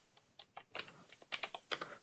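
Keys clack on a computer keyboard while a QBasic program is typed in, coming as short irregular bursts of close, crisp taps with brief pauses between them.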